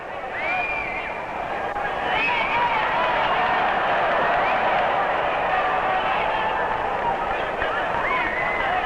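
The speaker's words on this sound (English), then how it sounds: "you don't know whether they're applauding for Carpentier or Thesz" A crowd at a wrestling match between Édouard Carpentier and Lou Thesz keeps up a steady, continuous wash of applause and murmur, with tonal crowd whistles or calls rising above it.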